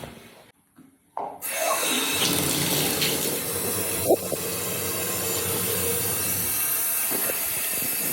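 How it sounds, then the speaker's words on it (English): Water runs steadily from a bathtub tap in a Barcelona bathroom, a continuous broadband rush that starts after a brief quiet moment and holds at an even, fairly loud level, with a faint knock partway through. "and then I'll run some water."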